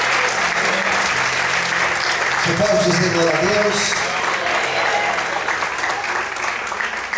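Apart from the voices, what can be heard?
church congregation applauding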